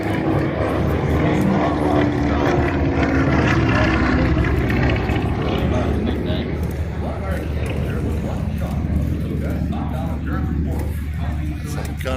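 Vintage warbird aircraft landing at an air show, a loud, steady propeller engine drone filling the scene, with people talking over it.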